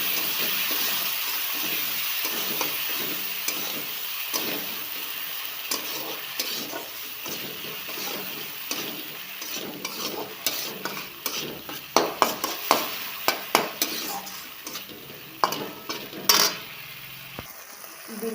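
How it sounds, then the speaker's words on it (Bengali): Tomato, ginger and green chili paste sautéing in a pan for a home-style potato curry, with a steady sizzle, spoon scraping and stirring throughout, and sharper clatters toward the end. "বিলাতি, আদা এবং কাঁচা লঙ্কা যখন ভালোভাবে কষানো হয়ে যাবে"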